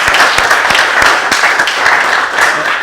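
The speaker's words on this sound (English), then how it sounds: "So really, another round of applause for this young man." An outdoor crowd at a Railroad Days event gives a dense, steady round of applause lasting a few seconds, loud and close without pause.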